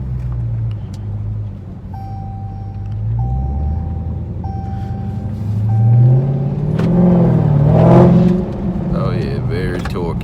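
Low engine rumble from a 707 hp Dodge Challenger Hellcat, swelling into a louder rev near the end, with steady electronic beeps early on and people talking over it.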